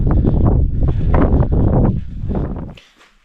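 Strong wind buffets the microphone on a mountain trek between Sandakphu and Phalut, a loud, rough rumbling roar in gusts that drops away abruptly near the end.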